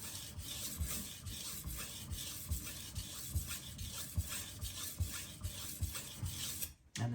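A Karaku AS gyuto 210mm kitchen knife blade sweeps in full strokes across a sharpening stone, giving a steady, rhythmic rasping scrape that repeats roughly every half second, close and alone.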